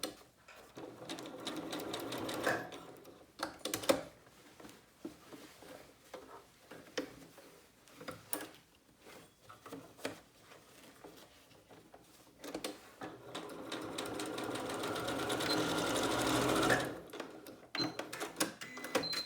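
A sewing machine stitches elastic into the waistband of joggers, its rapid mechanical needle chatter running in bursts of varying length, separated by short pauses and handling clicks, close and fairly loud.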